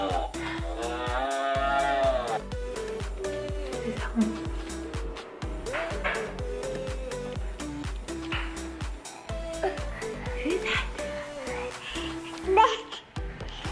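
A cow moos during a toddler's day at home, with a child babbling and adults talking over it.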